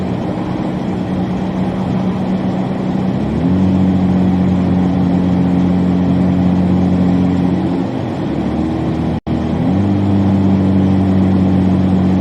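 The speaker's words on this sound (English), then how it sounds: "Listen to that exhaust roar." A vehicle exhaust roars in a steady, loud, low drone during a Tennessee snowstorm, with two shifts in pitch as the engine revs up and settles, and a brief dropout near the end.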